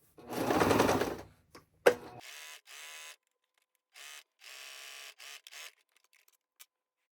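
A sewing machine stitches an understitch along a seam of stretchy shorts fabric, running in a few short bursts. A longer opening run is followed by several brief, closer stops and starts with quiet gaps between them.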